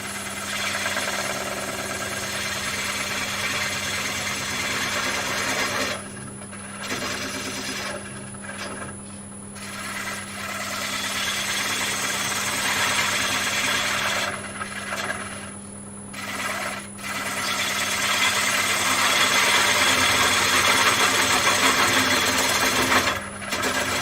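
A wood lathe spins a large platter blank while a gouge is pushed hard against its bevel, giving a continuous steady hum with a constant tone and rough cutting hiss, briefly dropping out a few times.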